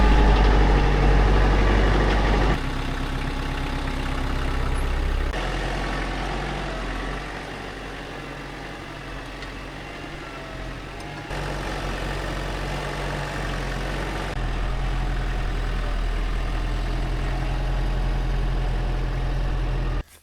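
A truck engine idles while backing up to collect a firewood cage, a steady low rumble that shifts in level in a few distinct steps, close and continuous, with no talking.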